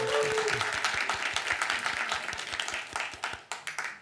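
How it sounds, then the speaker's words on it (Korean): A church congregation claps in encouragement during a Sunday service, starting as a full burst of applause and thinning to a few scattered, distinct claps at the end. "격려의 박수 한번"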